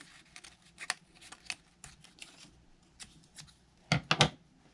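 Scissors snipping a curved, pointed reindeer tail out of paper for a craft, a series of quiet close cuts and paper rustles with two sharper snips near the end.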